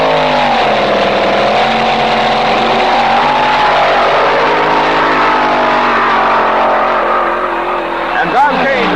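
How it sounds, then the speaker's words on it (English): Drag race cars launching at the 1967 NHRA Nationals, a Chrysler-powered rail against a twin Chevy-engined car, loud sustained engine roar with a rising pitch as they pull away, under an announcer's commentary. "In the far lane, the Beard Freight Train from Santa Monica, twin Chevy engines, Floyd Lippincott Jr. driving."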